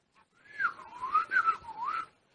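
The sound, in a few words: whistling imitating a shepherd calling sheep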